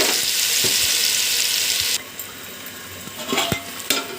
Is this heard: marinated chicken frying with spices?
yes